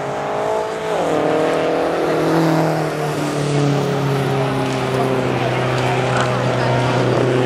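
Rally cars at a Joensuu club rally speed past, a loud engine roar sweeping down in pitch with strong harmonic drone and road noise, and a commentator talks over it throughout.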